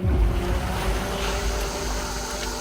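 Sea water churns around someone bathing in the ocean, a dense close wash with a strong low rumble at the start that settles into a steady surf noise, no speech.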